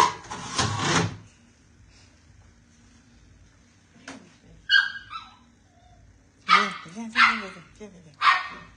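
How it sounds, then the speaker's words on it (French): A dog barks in short, sharp bursts, a loud volley at the start, then separate barks spaced out later, with quiet gaps between. "Chien là."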